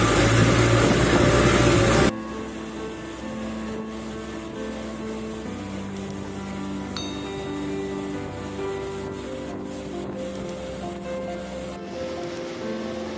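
A long-tail boat engine drones steadily on a trip across Phang Nga Bay, a loud close hum with strong tonal bands, starting under a burst of splashing spray before settling into a constant running note.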